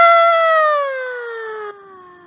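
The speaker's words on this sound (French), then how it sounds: "si vous entendez des bruits derrière, c'est mon chat. Il a trouvé une mouche, donc il arrête pas de miauler" A house cat meows in a long, drawn-out, wailing tone that slowly falls in pitch and drops in loudness near the end, heard alone and close by.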